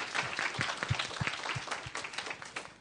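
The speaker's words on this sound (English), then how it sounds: "I'd like a round of applause" A room of conference attendees claps for the panelists at the close of a library public access session, a dense, steady wash of applause that holds throughout without any speech.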